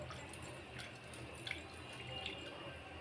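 Water draining and trickling off washed toor dal into a sink, a steady soft run of liquid with a few faint drips, quiet and close.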